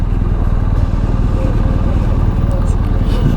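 A motorcycle engine runs steadily on a ride through Manhattan, New York, with a continuous low rumble and road noise throughout.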